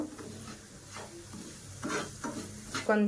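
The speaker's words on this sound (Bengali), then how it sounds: "ভালো করে নাড়াচাড়া করে ভেজে নেব" Semolina toasts in ghee for kesari bath, giving a soft steady sizzle broken by scraping stirs of a spoon in the pan, close and fairly quiet with no voices.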